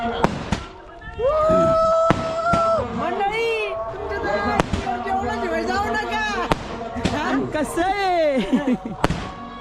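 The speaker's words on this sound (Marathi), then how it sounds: "हे बघा फटाके फुटताय." Firecrackers burst at a wedding in a string of sharp, loud cracks, spaced irregularly, over lively voices and crowd chatter close by.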